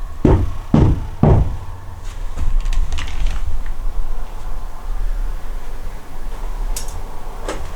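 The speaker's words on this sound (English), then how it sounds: "Can you make a knocking like this?" Knocking on a surface inside an abandoned pub: three sharp, loud knocks in quick succession at the start, followed by scattered fainter taps and creaks in a quiet, hollow room.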